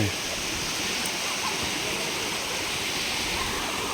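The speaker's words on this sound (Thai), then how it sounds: "ออมไปเล่นน้ำตกครับข้างบน" Steady, full broadband rush of a waterfall and stream pouring over rocks at a spring-fed natural waterfall in Khon Kaen, Thailand, loud and continuous throughout with no break.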